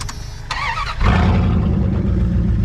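A tractor engine cranks briefly, then catches and settles into a loud, steady low idle close by, used for scrap hauling.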